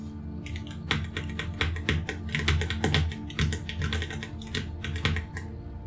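A password is typed on a computer keyboard as a close, steady run of crisp key clicks with brief pauses between bursts, and no voices.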